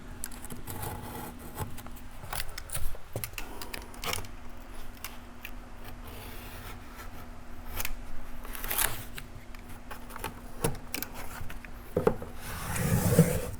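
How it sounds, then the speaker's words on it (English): Hybrid carpet being trimmed on a stair, with repeated soft cutting, scraping and rubbing strokes close by, alongside a steady low hum in the room and a few sharper knocks near the end. "All right, let's just trim this one in."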